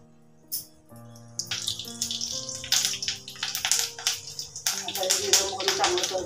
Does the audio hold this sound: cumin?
yes